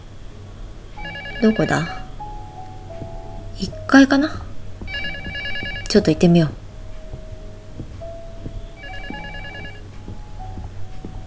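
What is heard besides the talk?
telephone ringing in LUTO horror video game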